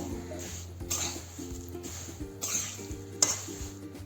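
Semolina (rava) roasting in ghee for sheera, a spoon stirring and scraping around the pan in repeated strokes, with soft sizzling and occasional metallic clinks, close up and moderately quiet.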